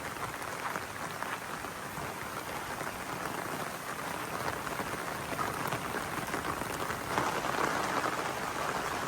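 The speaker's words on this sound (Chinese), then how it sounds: "沉浸式的感受一下广西大山里下暴雨的场景。" Heavy rainstorm pouring down in the mountains of Guangxi, a dense, steady roar of rain hitting surfaces that holds constant and slightly swells toward the end, with no voices.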